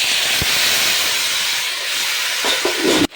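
Marinated chicken dropped into a pan of frying onions for Bengali chicken kosha, giving a loud continuous hiss and sizzle with a few clatters near the end before it cuts off abruptly.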